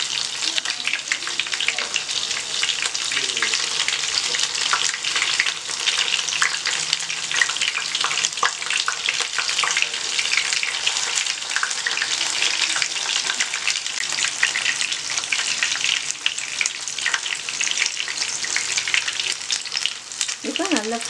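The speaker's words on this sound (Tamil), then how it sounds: "எல்லாம் திருப்பி போட்டு நல்லா கோல்டன் ப்ரௌன் ஆகிற வரைக்கும் ஃப்ரை பண்ணிக்கலாம்" Paneer fingers fry in hot oil with a loud, continuous, dense sizzle that holds steady throughout, heard up close with faint scrapes near the end.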